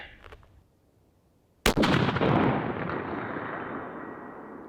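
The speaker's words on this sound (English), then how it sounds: "I'm going to go ahead and fire another one down there just to confirm that" A single Howa 1500 rifle shot fired at a target 300 yards downrange: one sharp, loud crack followed by a long rolling echo that slowly fades, with faint background noise before the shot.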